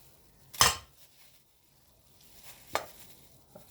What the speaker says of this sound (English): just slice them to it.